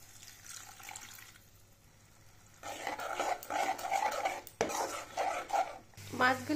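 Spice paste with a splash of water being stirred and fried in a pan for a fish curry, with scraping spoon strokes and soft sizzling that swell after a quiet opening, plus a sharp clink near the end.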